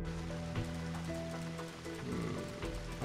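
Rain falls in the video game Radiant Historia as a steady, soft hiss beneath tonal game music that plays throughout.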